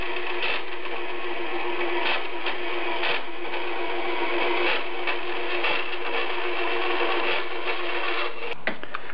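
Band saw slicing through shaped sheet metal for the rear passenger floor of a 1976 Mazda RX-5 Cosmo, a loud, steady close-up buzzing rasp that runs continuously and stops just before the end.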